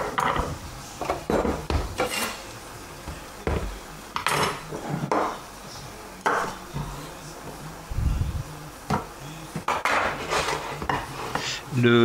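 Knife chopping garlic on a board, irregular close knocks and taps with scraping in between, moderately loud and unhurried.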